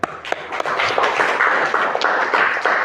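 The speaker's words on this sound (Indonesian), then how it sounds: "Saya kasih tepuk tangan dan boleh duduk lagi." An elementary school class claps hands in an Islamic religious education lesson, a brief burst of scattered, uneven claps from a group that fades quickly into a few remaining taps.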